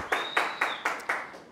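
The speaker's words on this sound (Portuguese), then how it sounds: "Uma salva de palmas para ele." A studio audience on a Brazilian TV program gives a short burst of applause, arriving as about five quick rhythmic swells of clapping at moderate level with a faint steady tone underneath.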